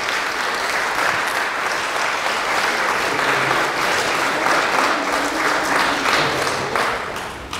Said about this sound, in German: Einen kräftigen Applaus nochmal für die drei bezaubernden Mädels.